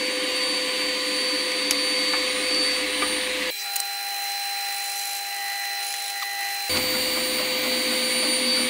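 A steady loud whirring drone of a Scheppach HA1000 dust extractor and a band saw runs continuously, with a brief change in tone midway before the full roar returns.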